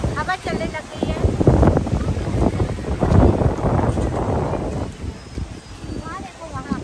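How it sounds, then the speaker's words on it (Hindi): Wind gusts across a hilltop at the Chocolate Hills on Bohol island, a loud steady rush and rumble against the microphone that runs throughout while someone talks over it. "हवा चलने लग गई है।"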